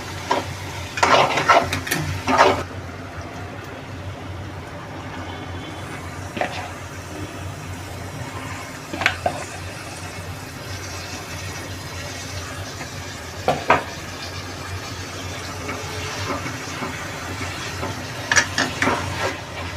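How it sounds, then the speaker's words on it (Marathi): Chicken mince goes into a pan of frying onion masala, giving a steady sizzle with loud stirring scrapes and clatters near the start, then a softer continuous frying hiss broken by occasional utensil knocks. "आता आपण त्याच्यात चिकनचा खिमा घालूया"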